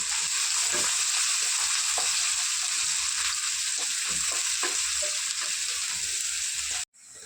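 Sliced onions and green chillies fry in a pan with a dense, continuous close sizzle and light stirring scrapes. The sound cuts off abruptly near the end.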